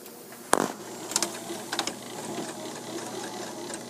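A sewing machine stitches a t-shirt drawstring backpack with the presser foot set, running slowly as a soft steady mechanical whir with a few sharp clicks and taps.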